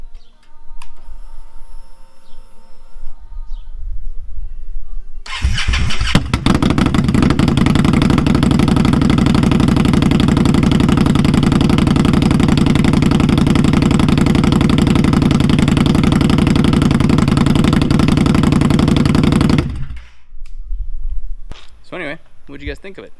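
An Indian Scout Bobber motorcycle with a Vance and Hines Slashcut exhaust starts and idles loudly for about fifteen seconds, a deep steady rumble with a throaty pulse, then cuts off, with someone talking briefly before and after.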